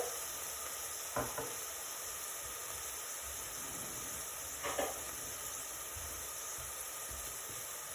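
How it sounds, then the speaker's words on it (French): Sliced onions and carrot rounds sizzle in a pan for a tajine, a steady close hiss with two short clattering bursts of stirring, no voices. "Alors là que mes oignons ils commencent à cuire un petit peu"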